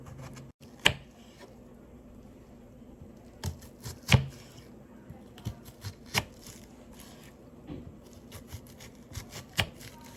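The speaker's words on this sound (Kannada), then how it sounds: "ವೆಜಿಟೇಬಲ್ಸ್ ಕಟ್ ಮಾಡೋಣ." A knife chops tomato and onion on a board, with sparse, uneven taps and thuds at irregular intervals against a quiet kitchen background.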